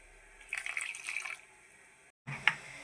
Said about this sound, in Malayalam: ആവശ്യത്തിന് വെള്ളം ഒഴിച്ചു കൊടുക്കാം